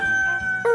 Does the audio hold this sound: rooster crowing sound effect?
yes